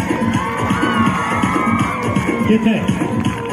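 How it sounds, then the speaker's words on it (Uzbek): A large crowd cheers, whoops and shouts at a blindfolded tightrope-walking show. The cheering is loud and steady throughout, with overlapping voices. "Qarsak pasayib ketmasin-a."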